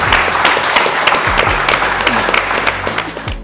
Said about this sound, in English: round of applause for you guys. You guys deserve it.